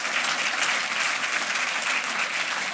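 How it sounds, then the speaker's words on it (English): An audience at an AI awards ceremony applauds the finalist companies with dense, even clapping from a large crowd that holds steady throughout, with no voices over it. "if we can have a round of applause for all those companies"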